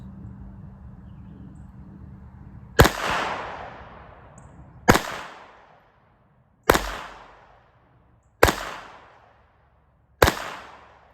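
Taurus TX22C pistol firing five sharp shots at irregular intervals, each a loud crack with a short ringing decay, heard alone with no talking.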